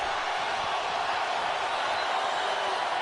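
A stadium crowd at an NFL football game between the 49ers and Texans keeps up a steady, loud, even roar with no clear peaks or breaks.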